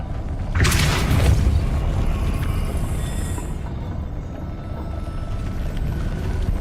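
A booming magical blast from the Depulso spell in Hogwarts Legacy, one loud burst near the start, then a long rumbling wash of game ambience that fades with no speech.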